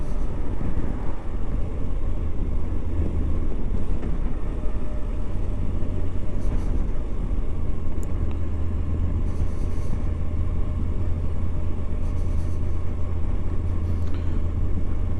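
A Moto Guzzi V85TT motorcycle rolls along at 20 mph in third gear, its engine a steady, low, thrumming rumble under constant wind noise, with a few faint ticks and no talking.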